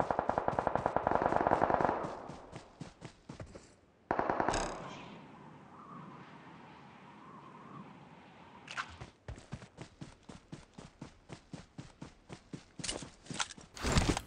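Automatic gunfire from the mobile battle royale game PUBG Mobile, with rapid bursts of shots, a pause with a lingering ambient tail, then more fast, sustained firing, loud and close with no speech.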